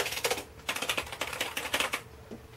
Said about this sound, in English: this is a Logitech K120 keyboard.